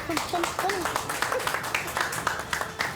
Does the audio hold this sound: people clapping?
yes